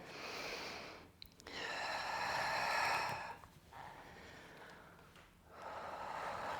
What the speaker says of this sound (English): I'm using my exhale for the pull.